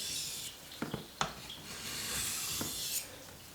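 Light single sharpening strokes drawn along the edge of a 50-year-old Puukko knife with a scandi grind, giving a few faint, close raspy scrapes spaced apart over a soft hiss.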